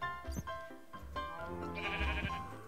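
Sheep in a Minecraft world bleating several times in quick succession, close and clear with a few soft thumps between the calls.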